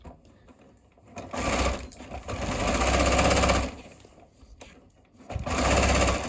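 A sewing machine stitches a long shirred seam down to the hem of an elastic summer dress, running in loud steady bursts separated by brief pauses.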